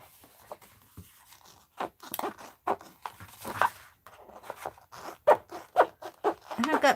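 Scissors cutting a paper doll out of paper, with crisp, uneven snips close to the microphone and quiet talking heard at times.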